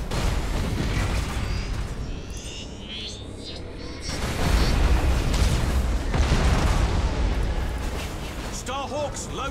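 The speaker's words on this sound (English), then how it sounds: "Fire that Nova Cannon and just kill him." A Nova Cannon firing and exploding in Battlefleet Gothic: Armada II, deep booms and rumbling blasts swelling through a space battle, with a voice speaking partway through.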